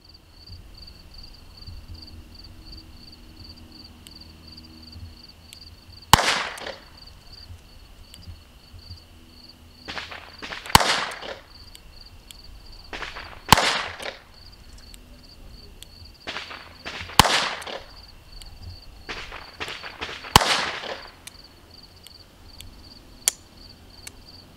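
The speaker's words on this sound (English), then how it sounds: "22 long rifle with an 8-inch barrel." Sharp cracks from a .22 Long Rifle revolver with an 8-inch barrel at an outdoor range, several spaced shots with quick follow-up pairs, each loud and abrupt over a steady insect-like background hum.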